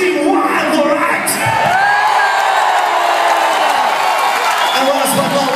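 A large live-concert crowd roars and cheers continuously at a show in Melbourne, a loud sustained wall of whoops and shouts that fills the whole stretch.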